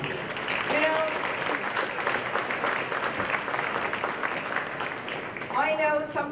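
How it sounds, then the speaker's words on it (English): Audience applause at a startup conference talk, a steady wash of clapping lasting several seconds, with a voice speaking over it near the end. "let's make an applause"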